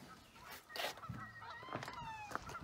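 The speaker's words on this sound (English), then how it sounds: "And the geese are still a pain in the butt." Geese honk in short, nasal calls, several overlapping in quick succession at moderate distance with no talk over them.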